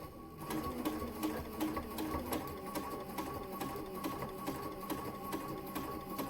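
A sewing machine stitches binding around a round fabric mug rug, running in a steady, fast rhythmic patter of needle strokes at moderate volume with no talking.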